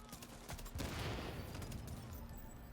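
Rapid gunfire from a Deadeye sniper build in The Division video game, a dense crackling burst of shots that swells and lingers as a noisy wash, moderately loud without speech.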